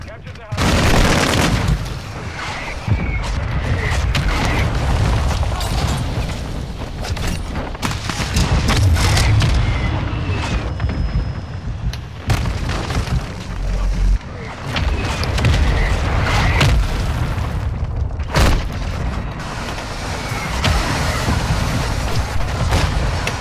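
Gunfire and explosions in a chaotic action video game, with a shotgun among the weapons, crack and boom in dense, overlapping bursts through most of the stretch, loud and close, with shouting voices mixed in.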